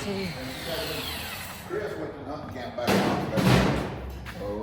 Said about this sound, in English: No, that sounds like grinding or something.